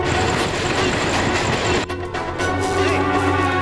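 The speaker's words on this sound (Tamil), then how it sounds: "ட்ரெயின் வர போகுது." A train approaches with a loud, continuous rumble and rattling wheels, the roar shifting midway into rhythmic clattering and metallic squeal as it draws near, with no talk.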